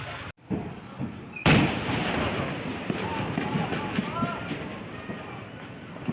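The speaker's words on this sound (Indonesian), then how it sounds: "Baru saja yang terdengar di layar kaca ini adalah salah satu ledakan akibat kebakaran gudang amunisi TNI AD di Cibubur" An explosion from a burning army ammunition depot in Cibubur, a sudden loud blast around mid-clip, set among a rumbling, crackling din of fire and distant bangs, with frightened voices nearby.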